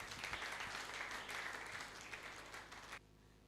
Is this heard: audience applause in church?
yes